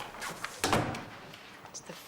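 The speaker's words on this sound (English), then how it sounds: "Shut the door." An office door pushed shut with a single solid thunk, close and fairly loud, followed by quieter shuffling and movement in the room.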